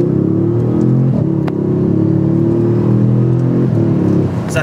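An Audi S6 with a Unitronic Stage 1+ tune accelerates hard on the road, heard from the cabin as a loud, rising engine drone with climbing harmonics. A brief shift interrupts it before the pull resumes.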